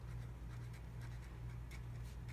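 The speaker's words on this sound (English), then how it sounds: "let's write our objective" Pen writing on paper, faint scratchy strokes in quick short bursts over a low background hum, with no voices.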